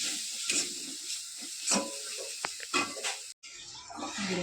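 Spices are sautéed in a pan for a koi fish curry with potatoes and tomatoes: a soft continuous sizzle broken by irregular spoon scrapes and knocks, close up, with a brief cut near the end.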